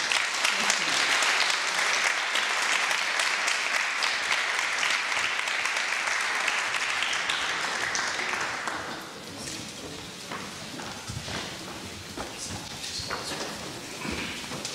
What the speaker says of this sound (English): I would like the audience to give them a huge round of applause for the budding musician